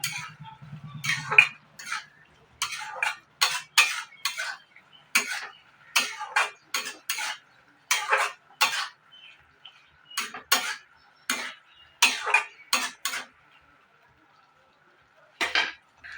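A metal spoon repeatedly scrapes and clinks against a pan while paneer is mixed in, the short rhythmic strokes coming in bursts close up with brief pauses and no talking.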